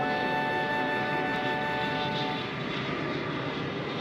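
A steady airplane engine drone hums continuously through the cabin of a cartoon flight, a loud unbroken tone with no voices.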